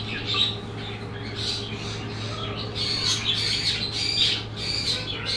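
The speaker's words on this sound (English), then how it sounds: "Them birds are getting freaked out." Birds squawk and chirp repeatedly as a thunderstorm moves in, sharp calls in irregular bursts over a constant low hum, fairly close and clear, with no speech.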